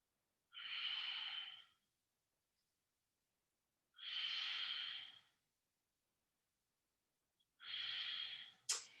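Three slow, deep breaths during a yoga pose in a gentle flow class, each a soft, airy rush lasting about a second with quiet pauses between, close and calm.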